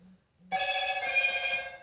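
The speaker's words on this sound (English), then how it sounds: "let me turn this phone down" A phone rings loudly and close by, a sustained bright electronic ringtone that starts abruptly after a short low tone and a moment of near silence, with no talk over it.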